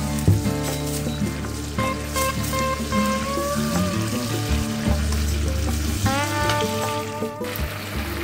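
Vegetables with soy sauce sizzle steadily in a pan as they are stirred, a continuous close frying hiss with light scraping and watery crackle throughout.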